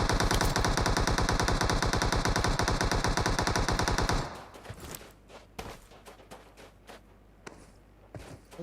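Sustained rapid automatic gunfire in the battle royale mobile game PUBG Mobile, a loud continuous burst for about four seconds, then scattered single shots and quieter game noise.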